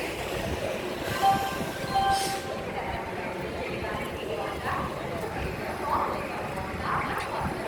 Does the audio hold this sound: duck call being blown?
no